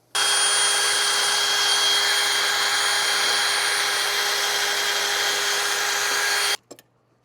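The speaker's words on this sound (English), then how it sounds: "We're going to start with the wire wheel on a drill, clean those threads up" A power drill spins a wire wheel in one steady, loud whine for several seconds, grinding against a rusty threaded sway bar link bolt, then stops abruptly with a brief clatter.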